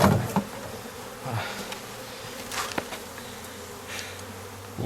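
Honey bees buzz around hive frames during a honey harvest, a close, wavering hum with occasional louder passes and faint knocks.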